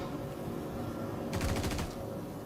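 A short rapid burst of automatic gunfire in a shooter video game, about eight quick evenly spaced shots over half a second, standing out over a low steady background with no talking.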